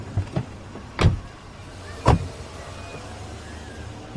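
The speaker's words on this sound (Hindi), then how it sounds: "ए, जरा डिक्की खोलो" A car trunk opens in a quiet setting with a few sharp mechanical clunks and clicks spaced about a second apart, then faint low background hum, and nobody speaking.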